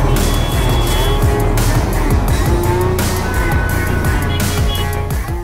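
Dense road traffic on the streets of Karachi, a city of heavy, chaotic traffic, rumbles loudly and continuously, with engines revving, vehicles passing close and occasional tire squeals.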